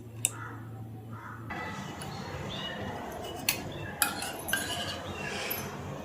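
Spoon stirring a thin turmeric paste mixed with water in a small container, soft scraping and clinking strokes with a few sharper taps against the rim, close and fairly quiet, with faint background noise.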